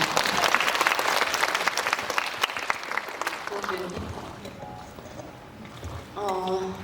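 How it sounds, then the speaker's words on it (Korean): A cinema crowd at a live star talk in a CGV theater in Yeongdeungpo claps loudly and steadily, the applause tapering off before a voice starts speaking near the end. "박수 부탁드립니다"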